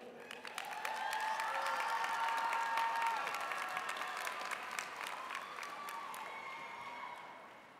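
A crowd applauding steadily at a graduation ceremony as the valedictorian and salutatorian come forward, loud and sustained at first, then slowly tapering off toward the end.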